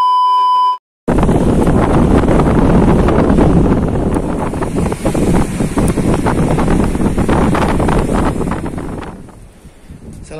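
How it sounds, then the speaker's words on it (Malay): Strong morning wind at sea buffets the microphone on a small fishing boat, a loud continuous roaring rush with gusts that ease off near the end. "Tapi nih kondisi angin masih pagi udah terasa nih."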